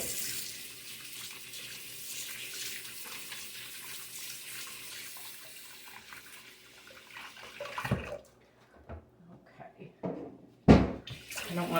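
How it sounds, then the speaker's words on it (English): Water runs from a kitchen tap for hand washing, a steady broadband rush that stops around the eighth second, followed by a few clattering handling sounds and a sharp knock near the end. "now I'm going to wash my hands."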